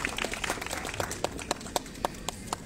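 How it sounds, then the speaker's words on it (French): Applause from an audience at a prize ceremony for a holiday lights and nativity scene contest, sharp scattered claps with several louder slaps standing out, moderately loud and fairly close. "on peut l'applaudir très très fort"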